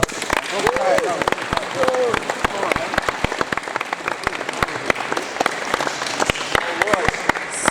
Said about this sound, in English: I want a massive applause for the under 16 guys.